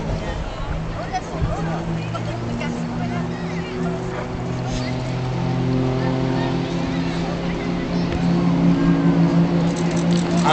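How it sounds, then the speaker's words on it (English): A formation of Extra 300 aerobatic planes rolls overhead at a seaside air show, their engines droning steadily with a rising and falling pitch, while a commentator talks over a public address system and the drone swells toward the end. "they'll show you the roll capability of our Extra 300, which is the aircraft we're flying"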